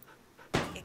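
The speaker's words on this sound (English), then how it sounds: "This is a dog. Woof woof. The dog is in the kitchen." A corgi-colored orange dog in the kitchen in the video game Dude, Stop lets out a single short, close panting huff after a quiet moment.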